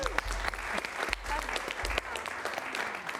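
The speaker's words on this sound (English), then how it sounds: "So give her a round of applause" Audience at a late-night talk show applauds the founder of Piano Push Play, moderate clapping with occasional sharper claps and some voices mixed in, fairly close.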